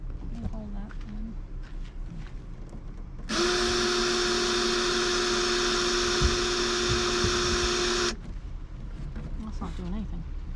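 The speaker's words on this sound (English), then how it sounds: "Would help if I had the drill direction going the right way." A power drill, set to the wrong direction, whirs steadily for about five seconds during a sink replacement, a loud sustained motor whine with talk and handling noises before and after.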